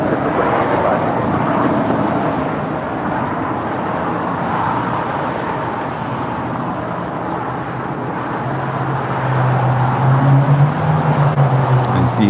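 A four-year-old JetBlue Airbus A321 departing LAX for Miami gives a steady, loud jet roar throughout, with a rising engine tone swelling near the end.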